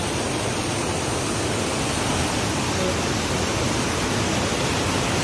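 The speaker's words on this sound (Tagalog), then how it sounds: "napakagandang falls dito" Falls in a monsoon river setting: steady broadband rushing water, loud and unbroken throughout, with no distinct events standing out above the constant roar.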